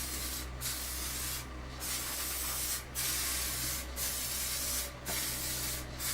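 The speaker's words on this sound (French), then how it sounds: "je mets juste un petit coup de vernis en bombe, 3 couches au total" An aerosol can sprays varnish onto a glued half-lap wooden stand in about six short hissing bursts separated by brief pauses, loud and close, with no talking.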